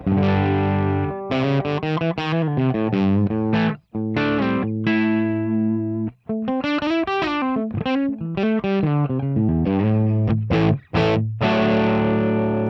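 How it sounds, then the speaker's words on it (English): A Gibson Les Paul Standard 60s electric guitar played through a Brit J4 amp model with heavy distortion, giving a thick, driven run of chords and riffs with brief pauses and sustained notes, played alone without talk. "I'm playing my Gibson Les Paul Standard 60s."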